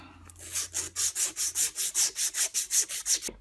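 Sandpaper rubbed back and forth over the copper commutator ring of a Bosch Classixx 6 Varioperfect washing machine motor, in a steady run of about fourteen quick, even scraping strokes, close and alone.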